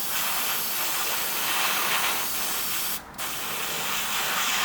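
Steady broadband hiss of an airbrush blowing plain air to dry a thin coat of Green Stuff World colour shift paint, continuous and fairly loud, with a brief dip near the end.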